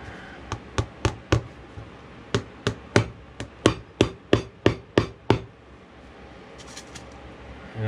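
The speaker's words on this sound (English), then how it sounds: "Sorry for the noise on the hammering," Hammer driving nails into the leather full soles of kangaroo skin Nocona western boots, about fourteen sharp close knocks in a quick regular rhythm, then a short quiet stretch.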